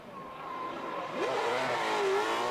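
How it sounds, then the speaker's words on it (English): Daigo Saito's drift car launches and revs hard at an RDS GP 2019 drifting event, the engine note sweeping upward and swelling louder, heard from a distance under a steady crowd-and-track wash. "Just listen to this car, sounds incredible"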